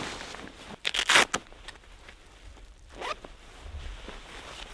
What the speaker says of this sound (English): It has the YKK zipper.